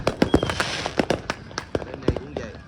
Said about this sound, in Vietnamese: bây giờ sau khi đó xong thì mình đốt pháo, mình đổ lửa luôn